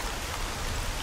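Heavy rain pours steadily in the video game STALKER Dead Air, a dense, unbroken hiss of downpour that stays loud and even with no voices over it.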